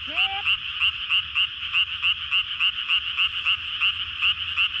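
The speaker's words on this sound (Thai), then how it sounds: "เสียงกบเสียงเขียด" Frogs croak at night in Korea, a loud, rapid, regular chorus of pulsing calls that continues steadily and close by. A brief higher chirp sounds at the start, and no one speaks.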